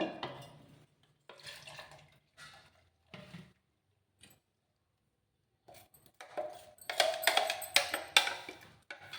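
Water is poured in short, faint splashes and trickles into a bowl of coconut chutney, with quiet clinks between pours and a fuller burst of pouring near the end.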